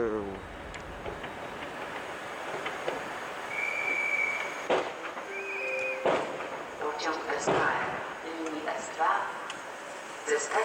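A Pendolino train pulls away from a platform at Warszawa Zachodnia station on a winter day, with wheel squeals, clanks and rail noise at moderate distance, and people talking nearby.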